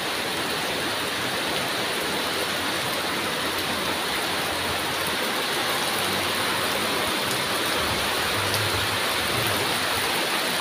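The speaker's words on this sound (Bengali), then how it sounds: "দেখো আজকে যা বৃষ্টি হচ্ছে, দেখো কিরকম বৃষ্টি হচ্ছে, জল পড়েই যাচ্ছে।" Heavy rain pouring down during a storm, a dense, loud, unbroken hiss of water falling on surfaces, steady throughout with no voices.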